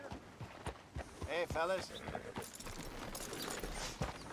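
Horse hooves clip-clop on a town street outside a sheriff's office in Red Dead. A quick run of steps, close and distinct, is followed by slower walking beats while someone briefly speaks.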